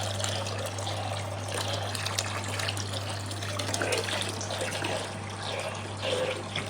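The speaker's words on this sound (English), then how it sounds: "what that will do is suck all the dirty water out" A gravel vacuum siphons dirty water from a tropical aquarium (Aquael Glossy 150) with a continuous rushing, trickling wash over a steady low hum, even and unbroken throughout with no talking.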